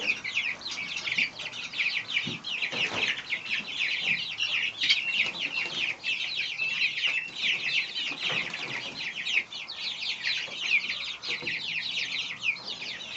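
A brood of growing Silkie chicks peeps continuously, a thick flurry of shrill chirps at close range with no talking.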